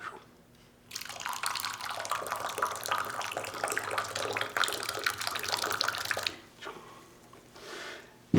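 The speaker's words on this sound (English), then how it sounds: "As I pour that hot water" Hot water pours into a cup during a physics demo, a steady splashing stream for several seconds that then stops, followed by faint trickling and a sharp knock at the end.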